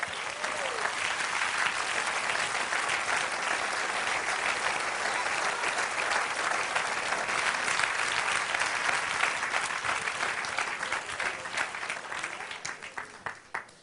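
A church congregation claps together in sustained applause for the Lord during a Spanish-language sermon, the steady dense clapping fading out near the end.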